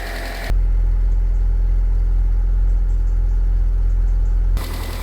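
An abandoned Land Rover Freelander engine cranks and catches, then runs at a steady, loud, close idle for about four seconds before cutting off, with no talking over it.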